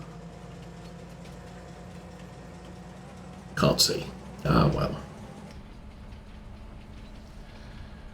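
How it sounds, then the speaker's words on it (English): A train in Farming Simulator 25 on the Alma, Missouri map rolls along with a steady low engine drone and faint rail hum, interrupted by a short spoken remark partway through. "And we ride the train to the end of the line again."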